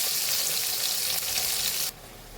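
Eggplant pieces frying on a high gas flame, a dense loud sizzle filling the space close up, dropping sharply in level near the end.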